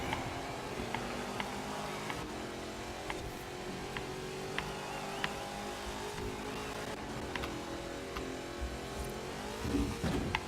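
Ford Mustang in Forza Horizon 4 racing game, its engine droning and revving steadily with shifting pitch and occasional gear-change blips, a brief tire or engine flare near the end, no talk.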